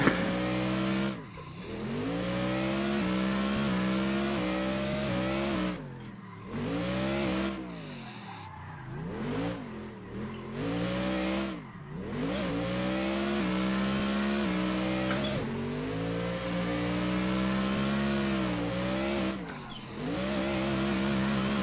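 A race car in the driving game Assetto Corsa, its engine revving hard and repeatedly rising and dropping through gears with skidding between, loud and steady with short breaks, and no talking.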